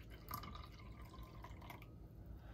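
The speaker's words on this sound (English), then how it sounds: "I'm going to use a half a cup of lukewarm water. So let's pour that in" Lukewarm water poured into a bowl with yeast, a faint, soft trickle and splash heard close, brief and quiet with no talking.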